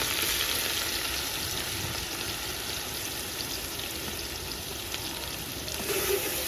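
Onion gravy sizzles as it hits hot oil with dried red chillies and bay leaves, a steady loud frying hiss and crackle that carries on evenly throughout.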